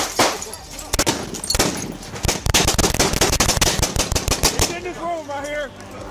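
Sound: nine-banger flashbang grenade going off nine times

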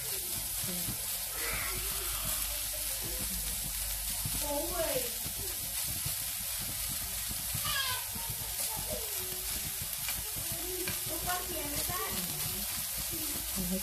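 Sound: frying marinated chicken with oyster sauce and pepper

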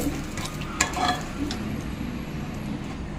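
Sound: cashews and curry leaves sizzling while frying for tempering

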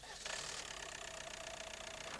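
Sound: car engine started and idling during fuel pressure test

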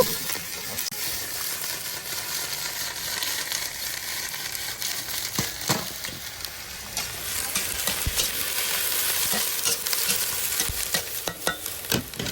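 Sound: stir-frying cabbage in a wok

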